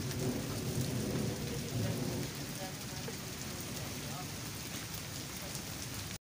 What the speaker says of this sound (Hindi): वो सूरज है और ये बारिश हो रही है।